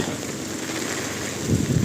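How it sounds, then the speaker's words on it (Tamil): Steady wind buffeting and rain noise while someone walks outdoors with a small umbrella, a broad continuous roar that swells slightly louder near the end, with no voices. "மழை காற்று செம்ம"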